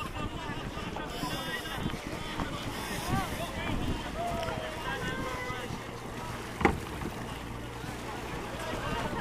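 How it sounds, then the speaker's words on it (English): A boat approaching across water off Lesvos, with wind buffeting the microphone, waves lapping, and a sharp knock midway; faint voices murmur in the background. "Okay, here comes the boat."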